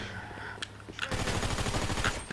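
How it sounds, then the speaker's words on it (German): Rapid bursts of automatic gunfire in the online mode of GTA V, a dense rattling volley that grows louder halfway through and keeps going to the end. "Ich werde hier gerade beschossen"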